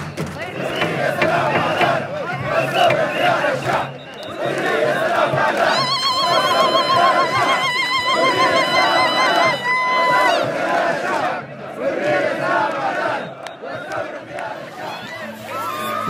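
A crowd gathers at a daily sit-in protest across from military headquarters in Sudan, with many voices chanting, cheering and chattering in a lively, festive din and a brief high whistle-like tone rising partway through.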